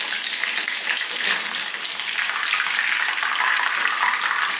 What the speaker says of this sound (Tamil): இப்போ ஒரு சைடு நல்லா ஃப்ரை ஆனதுக்கப்புறமா இன்னொரு சைடு திருப்பி போட்டுருங்க